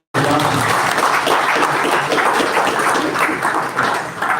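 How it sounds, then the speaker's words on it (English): A resounding round of applause from the audience at a public relations and leadership committee inauguration, dense steady clapping that starts abruptly and holds loud for several seconds before easing slightly. "can we give her a resounding round of applause?"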